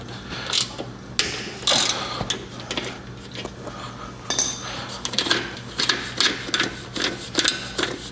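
A wrench ratchets on a bolt of an Evo Softail motorcycle, giving short bursts of metallic clicking in an irregular rhythm, close and moderately loud, with no talk.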